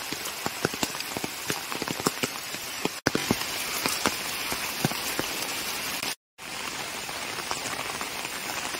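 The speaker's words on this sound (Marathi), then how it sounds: "गेले 8 दिवस जोरदार पाऊस आहे कोकणामध्ये।" Heavy rain falls steadily in rural Konkan after days of downpour, a broad continuous hiss with crisp close drop impacts throughout, briefly cutting out for a moment near the end.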